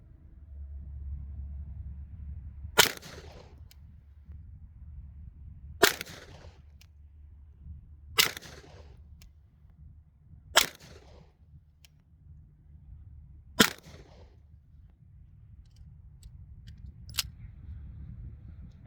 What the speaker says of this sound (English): And I'm shooting a whole bunch